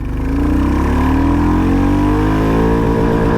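A Royal Enfield Bullet 350 single-cylinder motorcycle pulls hard in first gear, its loud close thumping engine note rising steadily in pitch as it accelerates, with no voices.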